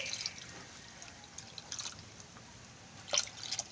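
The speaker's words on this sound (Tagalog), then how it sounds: "Yan, dagdagan ko pa ulit ng tubig." Water splashing and trickling into a pot of simmering beef skin and meat for balbacua, faint intermittent pouring with a few louder splashes near the end.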